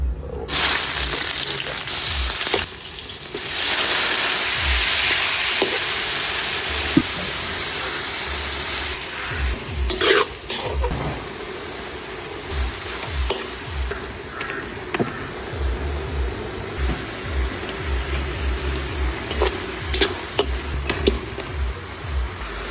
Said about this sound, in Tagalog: Luto tayo ng salsyado.